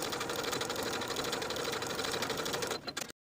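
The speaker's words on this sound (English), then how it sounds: "we're going to take it to the sewing machine, and with a 5/8 inch seam allowance, we're going to sew along the bottom notched edge of the collar" A domestic sewing machine runs steadily, stitching a 5/8 inch seam along the notched bottom edge of a vest collar, with a dense, even mechanical whir for about three seconds before stopping abruptly.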